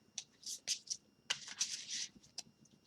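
Oracle cards are shuffled and drawn by hand, giving soft, quick papery riffles and flicks in short bursts with brief pauses, close and fairly quiet.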